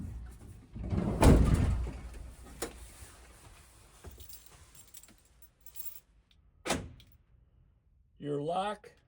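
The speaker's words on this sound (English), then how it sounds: "So now, when I close the door," A Ford Transit van door is pushed shut with a heavy thud, followed by lighter clunks and rattles from the lock, and someone speaks near the end.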